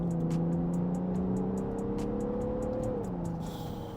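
An Audi Q7 with a 6.0 V12 diesel accelerates, its engine note climbing steadily before a gear change drops the pitch, heard from inside the nearly three-ton car alongside a regular ticking indicator.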